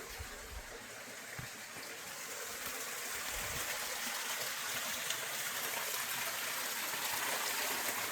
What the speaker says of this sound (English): It's just like a little side creek that's coming down through all these granite blocks.